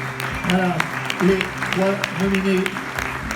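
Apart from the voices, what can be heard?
applause for the award nominees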